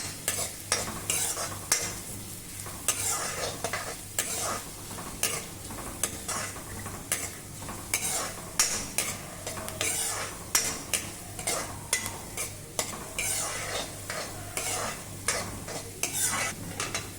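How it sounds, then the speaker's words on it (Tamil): Finely chopped large onion sautés in a kadai for kadai paneer, with a close, continuous sizzle under rhythmic spoon stirring and scraping against the pan, repeating steadily throughout. "ஒரு பெரிய வெங்காயம் பொடியாக கட் பண்ணி வச்சுருக்கேன் அதை சேர்த்துக்கலாம் வதக்கிக்கலாம்"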